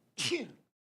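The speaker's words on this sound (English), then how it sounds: "It's a sneeze." A single close sneeze from a man, a sharp breathy burst that trails off quickly into silence.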